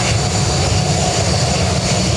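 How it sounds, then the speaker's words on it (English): A Ryanair jet airliner takes off at Dublin Airport, giving a loud, dense, steady engine roar that fills the short stretch. "Ryanair took off."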